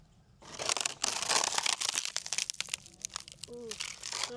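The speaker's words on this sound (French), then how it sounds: "on va faire du ASMR d'une grosse feuille toute sèche" A big, dry leaf is crushed up close for ASMR, giving a dense run of crisp crackles and crunches for several seconds, with a brief voice near the end.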